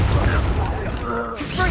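A Bombarda spell explosion in Hogwarts Legacy: a loud, dense blast with heavy low rumble that fills the whole moment and shifts to a brighter crackle near the end.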